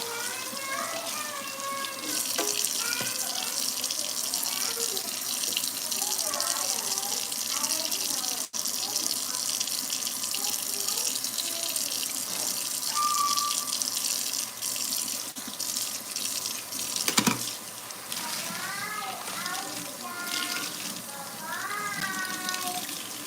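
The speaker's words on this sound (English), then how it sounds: "Cleaning the sink now." A kitchen tap runs steadily into a sink during cleaning, with water splashing and gurgling throughout, while voices, including a child's, talk intermittently in the background.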